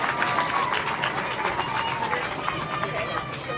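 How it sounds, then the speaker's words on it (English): A large crowd at a softball game between Team Mexico and Team Japan, at an outdoor ballpark on a chilly day, cheers and hollers in a sustained roar, with voices and scattered clapping blending into loud, continuous crowd noise. "Got a pretty big crowd up in here. They're cheering pretty loud."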